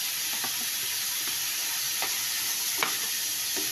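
Mixed vegetables frying in a hot pan for beef macaroni, a steady loud sizzle with several soft scraping stirs at irregular intervals.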